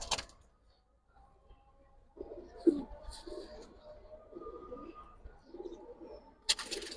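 Pigeon chicks of the Nilpori and Gribaz breeds coo repeatedly in a loft, low soft throaty coos in a steady run over faint background noise.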